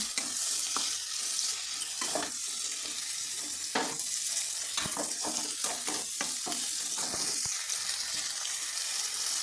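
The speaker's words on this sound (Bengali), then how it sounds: "অল্প জল দিয়ে ভালো করে কষিয়ে নিচ্ছি" Spices for khichuri stir-fried in a pan with a splash of water, a steady close hiss of sizzling broken by irregular scrapes and stirring clatters throughout.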